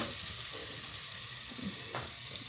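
Butter goes into a heated pot and sizzles softly, a steady faint hiss of frying with a few light stirring sounds, close and without talk.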